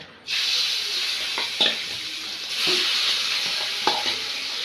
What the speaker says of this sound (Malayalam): അത് ചൂടായി വരുമ്പോൾ നമുക്ക് നേരത്തെ മാറ്റി വെച്ച ചെമ്മീൻ അതിലേക്ക് ഇട്ട് കൊടുക്കുക